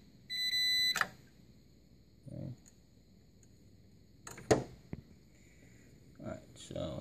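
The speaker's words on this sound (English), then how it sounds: "And we go ahead and measure that. And we get that beep." A digital multimeter gives short electronic beeps while its leads test a treadmill fuse, sounding among clicks and handling taps, with quiet gaps between them.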